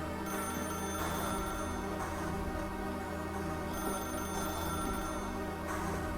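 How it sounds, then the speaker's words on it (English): A telephone rings in The Stanley Parable video game, a steady electronic bell trilling in repeated bursts, clear and alone with no talking. "If you can truly place your faith in another, then pick up the phone."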